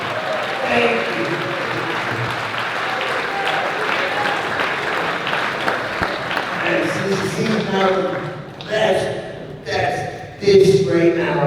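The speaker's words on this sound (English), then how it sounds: "So you should give that a round of applause" A large audience at a Hall of Fame induction ceremony bursts into sustained, loud applause that rises and swells, with cheers and shouting voices breaking through near the end.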